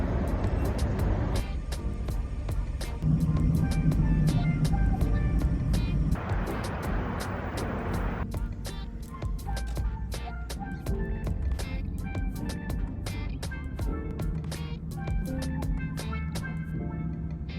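Steady engine and road drone from a car on the move during a long drive, continuous and fairly loud, with scattered clicks and tonal chimes layered over it.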